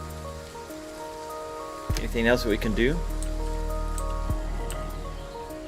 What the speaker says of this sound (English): we're getting this rain